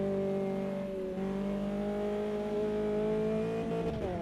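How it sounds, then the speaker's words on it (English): Race car in the AMS2 sim, a Formula Inter open-wheeler at Santa Cruz do Sul, engine droning steadily as the driver feathers off the throttle, tyres squealing through corners; continuous, loud and close, with no voices. "you can hear the feather off of the throttle. And the tyres light up through these corners."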